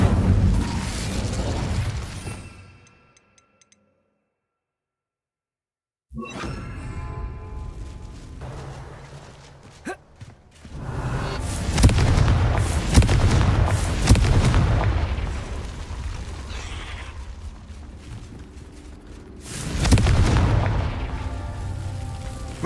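Incendio fire spells burst in Witch Simulator 2023, loud booming explosions with rumbling tails, separated by a gap of silence and followed by further blasts and crackle.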